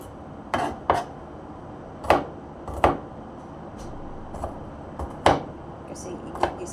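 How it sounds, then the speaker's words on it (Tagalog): A knife chopping onion and garlic on a board, sharp irregular thuds about once or twice a second, close and distinct over a quiet kitchen background. "Iwa ko ng sibuyas at bawang."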